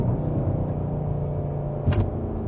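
An American V8 car engine and exhaust rumbles steadily at a low, even idle or cruise, close and moderately loud, with a brief rise near the end.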